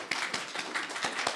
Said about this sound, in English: give a lovely round of applause to our elder brother, David Rennie, who will be leading us on guitar today